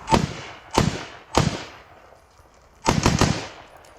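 Rifle shots crack sharply at an outdoor shooting range: three single reports spaced apart, then a rapid burst of three shots in quick succession, loud and close with no talking.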